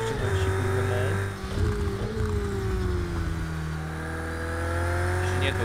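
Porsche 919 Hybrid LMP1 prototype engine at Imola in the racing game Project Cars 2, a steady loud drone with rising and falling pitch as it revs, continuous and alone throughout.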